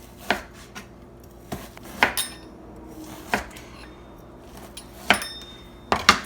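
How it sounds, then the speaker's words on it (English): A knife chopping frozen sausage into bite-sized pieces gives sharp, close cuts at irregular intervals, with faint clinks from the board and utensils in a quiet kitchen. "what I'm going to do is just cut this sausage up. And it's frozen"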